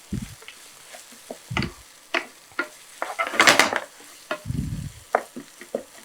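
Ground masala paste is stirred in a pan on a low flame while cooking a chicken and potato kootu. A spoon scrapes and clinks against the pan in irregular strokes over a soft sizzle, close up.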